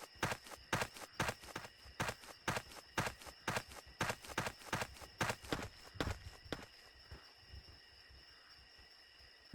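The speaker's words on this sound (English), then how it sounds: "Heard another footstep." Heavy dinosaur footsteps in the game Trespasser thud in a quick, steady rhythm of about a dozen evenly spaced steps, quiet and close, then trail off into faint background hiss.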